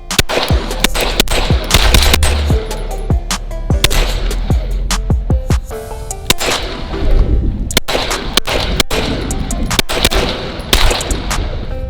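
A 9mm AR carbine fires a rapid string of loud, sharp gunshots up close, the cracks coming in quick bursts with short pauses between them.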